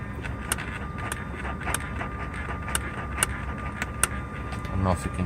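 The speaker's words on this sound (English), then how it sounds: "We have the sound from throttles." With the ignition on in a Mercedes 600SL, the electronic throttle actuators tick in a series of short, sharp clicks spaced about half a second apart over a low background hum, ending in a brief buzzing whir.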